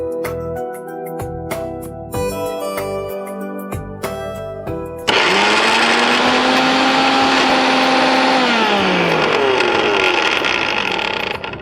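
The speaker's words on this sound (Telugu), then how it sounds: "సో ఇది మనం మిక్సీ పట్టేస్తాం." A mixie grinder blends dosa batter ingredients, starting with a few seconds of clattering and rattling before the motor surges into a loud, steady whirring roar that holds to the end.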